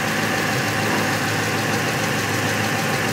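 A car engine keeps running after its wires are wiggled, a steady dense mechanical drone with a faint rough knock, loud and constant throughout with no talking.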